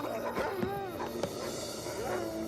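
A dog yips and barks a few times against a busy background of music-like tones and noise, short and fairly close.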